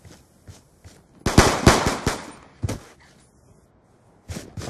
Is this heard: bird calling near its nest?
no